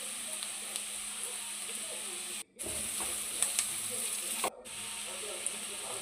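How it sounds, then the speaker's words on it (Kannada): Finely chopped green chillies fry in a pan as filling for bakery-style egg puffs, giving a soft, steady sizzle and hiss with faint stirring sounds, broken by two abrupt silent gaps. "ಸೊ ಅದನ್ನು ಹಾಕ್ಕೊಂಡು ಚೆನ್ನಾಗಿ ಫ್ರೈ ಮಾಡ್ಕೊಬೇಕು."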